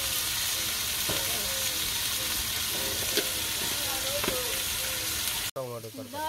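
Potatoes fry in a pan with a loud continuous sizzle and a few scraping stirs; a voice speaks faintly under it, and near the end the sizzle cuts off and a voice becomes clear.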